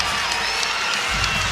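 A raucous crowd cheering at a UConn exhibition basketball game, a dense wash of voices and cheering, loud and continuous over a short stretch.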